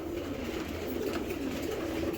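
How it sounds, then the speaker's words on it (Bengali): A young female racing pigeon coos close by, a low steady throaty warble that continues without a break over a faint background hum. "এটি একদম ইয়ং কবুতর"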